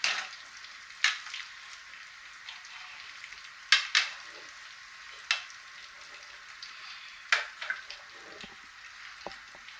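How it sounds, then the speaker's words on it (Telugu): Ajwain-leaf gram flour pakodas sizzle steadily in hot oil, a continuous close hiss broken by sharp bursts and spatters every second or two, with no voices. "స్టవ్ ఫుల్ పెట్టేసుకొని ఫ్రై చేసుకోండి"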